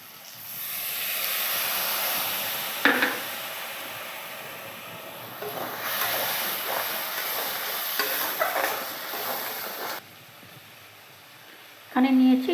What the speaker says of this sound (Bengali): এরপর আমি এখানে দিয়ে দেবো লঙ্কা আর হলুদের জল